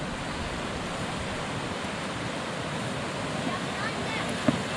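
River water rushing steadily at a mountain crossing on a horse pack trip, a broad continuous roar of current that stays constant and fairly close throughout, with no voices.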